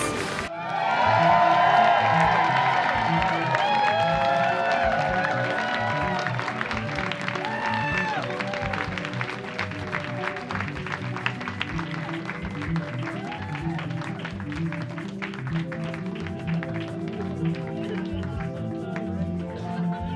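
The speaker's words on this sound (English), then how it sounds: "to keep clapping" A studio audience at a comedy talk show claps and cheers loudly, with whoops rising at the start, then settling into steady, sustained applause that continues without letup.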